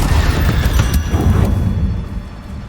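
A Confringo spell explosion in the video game Hogwarts Legacy: a loud, booming blast with deep crackling rumble that holds for a moment, then fades away over about a second.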